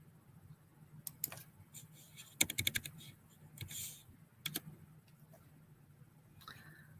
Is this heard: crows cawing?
no